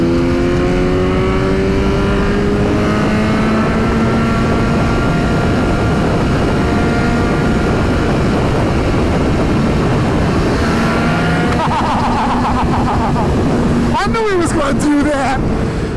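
BMW M1000XR motorcycle at high speed on a race outing, a loud continuous engine howl with shifting harmonic tones rising and falling as it passes, dense wind roar throughout, and a voice talking over it.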